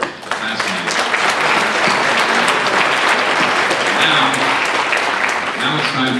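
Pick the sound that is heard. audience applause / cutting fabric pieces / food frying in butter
audience applause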